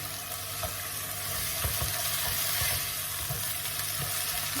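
Lentils stirred in a pot while frying for Turkish ezogelin soup, a steady sizzle with soft scraping strokes of the spoon, fairly close and even throughout, no voices.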